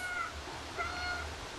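A black cat in the video game Stray lets out two short, faint meows over quiet ambient game sound.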